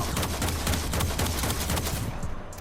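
Rapid bursts of Kuva Seer pistol fire in Warframe, sharp repeated shots in quick succession, loud and dense, with no voices over them.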